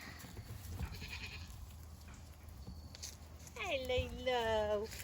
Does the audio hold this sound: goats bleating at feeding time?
yes